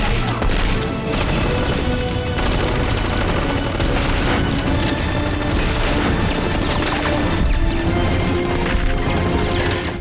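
Gunfire in The Death of Superman animated movie, with dense bursts of shots, crashes and booms over a loud action score, and voices talking over it at times.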